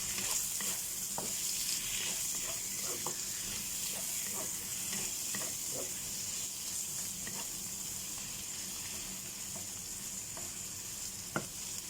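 Shrimp frying in a pan abroad, a close, continuous hiss and sizzle with frequent short crackles and pops, alone without voices, fairly quiet overall.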